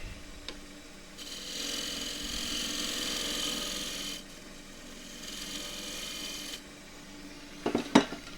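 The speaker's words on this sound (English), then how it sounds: "All that gets sanded." Sandpaper rasps steadily against a turned wooden glasses stand spinning on a lathe, a continuous close hiss that swells and eases in long passes, followed by a few clattering knocks at the end.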